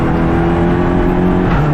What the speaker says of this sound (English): as the number 68 car of Smichowski looks to make a move for 4th